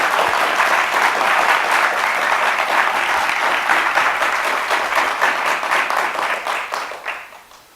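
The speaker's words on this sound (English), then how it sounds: "how about another round of applause for Dr. Wiley's compelling discussion on social justice." Audience applause at a university diversity presentation, a sustained dense patter of many hands clapping from a sizeable crowd that gradually tapers and fades out.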